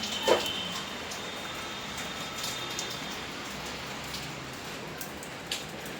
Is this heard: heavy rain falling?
yes